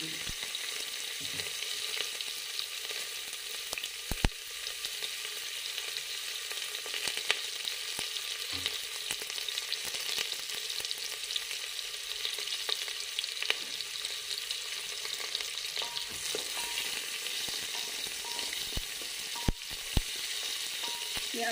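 Chopped onions frying with cumin seeds in oil for khichdi, a steady close hiss of sizzling throughout with occasional soft clicks of stirring, no talk.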